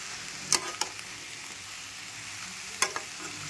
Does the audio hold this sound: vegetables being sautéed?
yes